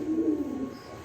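A Bombay pigeon gives one short, close, low throaty coo, alone and clear.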